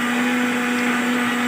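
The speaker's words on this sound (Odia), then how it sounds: "ମସଲା ବଟା ହେଉଛି" An electric mixer grinder grinds spices in a home kitchen, a loud, steady whirring drone with a constant motor hum that runs unbroken from start to finish.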